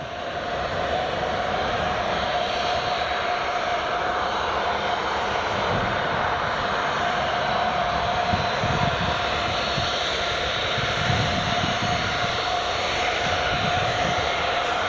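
A Ryanair jet airliner at Newcastle Airport roars steadily and loudly for the whole stretch, with a broad sustained engine rumble that holds level and never drops away, and no talk over it.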